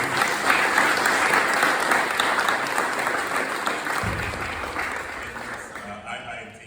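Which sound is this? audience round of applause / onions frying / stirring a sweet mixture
audience round of applause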